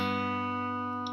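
Fingerstyle acoustic guitar sounding a low G bass note together with the open second string. It is a single clean chord that rings steadily and slowly fades. No voices.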